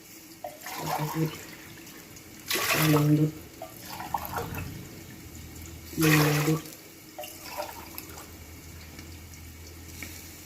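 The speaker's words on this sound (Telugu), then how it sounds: "దీంట్లో నీళ్ళు కలుపుకుంటున్నాము" Water is poured into a pot for cooking rice in three short gushes with pauses between, while a voice counts quietly.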